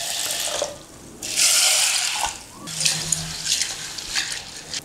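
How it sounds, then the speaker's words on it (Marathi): Sago pearls being washed in a pot with water, with bursts of running water from a tap, sloshing and clinks of the pearls against the vessel, close and fairly loud with no talking. "या दोन्ही पातेल्यामधले साबुदाणे मी धुवून काढणार आहे"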